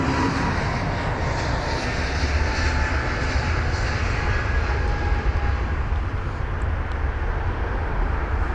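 A TAP Air Portugal airliner at London Heathrow gives off a steady, broad jet roar that holds at an even loudness throughout, with a low rumble underneath and no voices.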